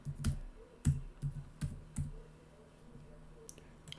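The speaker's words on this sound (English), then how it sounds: "So I'll just type January" Keys on a computer keyboard are typed in a short, quiet burst of about six separate clicks, then fainter tapping trails off toward the end.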